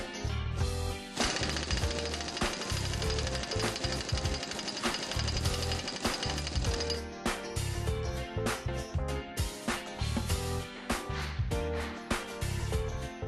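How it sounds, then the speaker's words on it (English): Impact screwdriver hammering a collar nut tight on a transmission flange, a loud, continuous rapid rattling burst that runs several seconds, then breaks into short repeated bursts with brief gaps. "Tighten the collar nut with the impact screwdriver."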